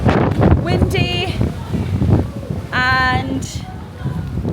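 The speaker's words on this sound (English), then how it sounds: "incredibly windy and cold, and everyone is running for their lives" Strong, cold, misty wind gusts across a hilltop at Ba Na Hills, buffeting the microphone in a steady rumble beneath voices, with a couple of high whistling tones rising through the gusts.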